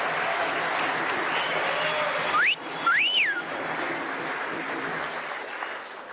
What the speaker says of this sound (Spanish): mando un aplauso a Cilita